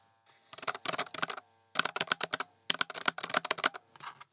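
Typing on a Nuphy Air75 low-profile mechanical keyboard with red linear switches: close, quick bursts of soft clacking keystrokes in three runs separated by brief pauses, with no voices.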